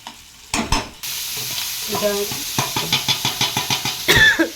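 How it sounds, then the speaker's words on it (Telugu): Green chillies fry in a pan with a loud hiss that kicks in suddenly, followed by a rhythmic series of scraping stirs against the pan under a continuous sizzle, close and without talk. "బాగా ఫ్రై చేసుకోవాలి"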